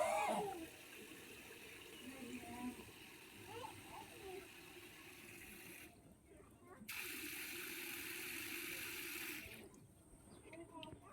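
Water runs from a household tap into a container for cooking, a steady rushing flow that swells louder midway, with faint background voices and household noise.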